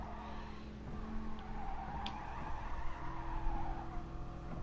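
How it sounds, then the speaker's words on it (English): A Corvette in a Gran Turismo Sport race replay, engine droning steadily with tire squeal and faint skidding, a continuous mid-level racing sound without voices. "Watch how he revs this vet out."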